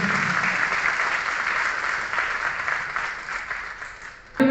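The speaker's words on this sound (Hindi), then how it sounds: "जोरदार तालियों से स्वागत।" Audience at a retirement programme for a thermal power plant engineer applauds loudly to welcome Mrs. Sharda with a bouquet, a steady, dense wash of clapping heard somewhat distant, ending with a sudden close thump.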